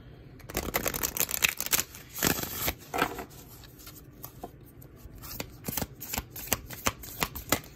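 Playing cards being shuffled for a tarot-style reading: a series of crisp riffling and slapping bursts, close and fairly quiet, with short pauses between shuffles and no talking.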